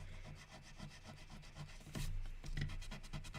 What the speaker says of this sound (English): But we'll sand it off and there we go.